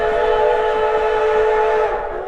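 A coal-burning Durango & Silverton steam locomotive whistle blows one long, loud, chord-like blast, steady throughout and starting to fade at the very end.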